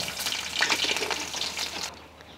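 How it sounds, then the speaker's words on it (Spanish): Onion and garlic sizzle steadily in a hot pan, a dense crackling hiss with small popping bursts that stays loud for about two seconds, then drops to a quieter simmer. "También voy a dorar cebollita con el ajo"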